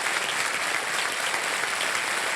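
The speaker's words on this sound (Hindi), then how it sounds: "3:20 पर इनको ताली बज जाए" A studio audience on the KBC television game show claps in steady, continuous applause, filling the whole moment at even volume.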